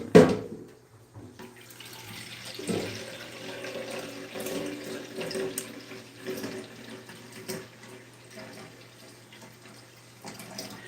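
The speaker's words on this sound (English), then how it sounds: "I need to go get some more water." Water runs steadily from a tap into a sink at night, a continuous close splashing flow with a brief louder gush at the start and faint background sounds beneath.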